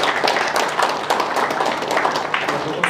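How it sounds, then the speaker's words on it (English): Audience applause at an awards ceremony in Zimbabwe, a steady dense round of clapping filling the room at moderate volume for the whole stretch. "May we give a round of applause for his presence."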